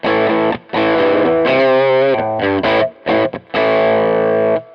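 Electric guitar played through the Tube Screamer setting of a JHS Bonsai 9-in-1 overdrive pedal, a loud, biting, mid-focused driven tone; sustained chords and bends ring out with short gaps between phrases, no talking.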